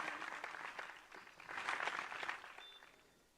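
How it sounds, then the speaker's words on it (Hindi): Audience applause at a religious Bhagwat katha gathering, a moderately distant, steady round of clapping swelling briefly and then tapering off over about three seconds. "उनके लिए एक बार जोरदार ताली होनी चाहिए"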